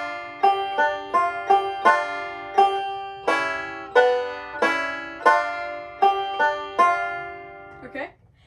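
A banjo plays a bright, twangy lick, plucked notes in an even rhythm, each ringing briefly, ending on a quick flourish.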